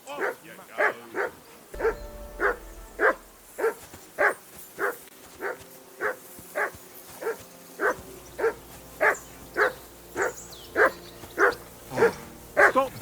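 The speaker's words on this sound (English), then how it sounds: "Jesus, Henry, that barking's driving me nuts. Can you get your dog to shut its" A dog in the medieval video game Kingdom Come: Deliverance 2 barks again and again in an even, steady rhythm, roughly two barks a second, close and insistent over low ambient game sound, with no talk.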